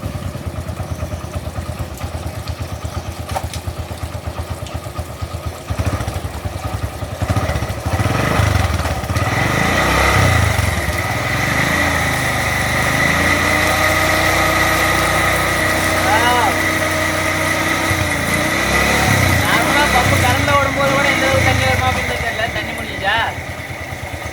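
A motorcycle engine, used to drive a water pump, idles steadily nearby with a low continuous rumble, running throughout while someone talks over it.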